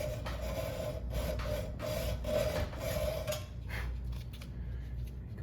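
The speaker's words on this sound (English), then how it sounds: "So then I go with regular hacksaw because I can keep it flatter." A hand hacksaw cuts through the steel sleeve of a Mazda Miata front upper control arm bushing in a steady rhythm of rasping back-and-forth strokes, close and moderately loud, slowing toward the end.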